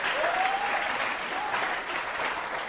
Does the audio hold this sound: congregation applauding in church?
yes